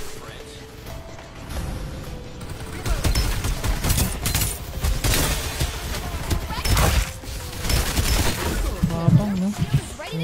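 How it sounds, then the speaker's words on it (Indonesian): Gunfire in the battle royale game Farlight 84: repeated bursts and scattered shots at moderate loudness, some close and some farther off, running under excited talk from players. "Oh, may mga bumabaril, ah."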